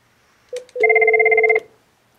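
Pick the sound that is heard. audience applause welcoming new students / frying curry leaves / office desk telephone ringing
office desk telephone ringing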